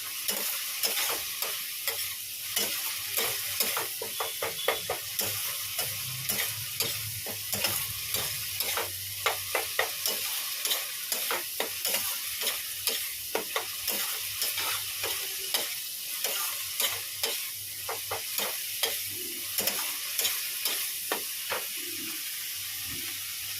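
Spices and masala being sautéed in a pan, a steady sizzle under a long run of rhythmic spatula scrapes and stirs, close and fairly loud throughout, with no talking.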